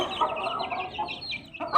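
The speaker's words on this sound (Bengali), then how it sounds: "ছোট মুরগিগুলোকে ছেড়ে দিলাম" Young chickens on a poultry farm, just let out, give a rapid string of soft, overlapping clucks and chirps at close range, fairly faint and with no talk.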